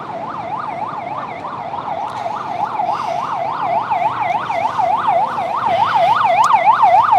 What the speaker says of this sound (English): Another ambulance coming quickly.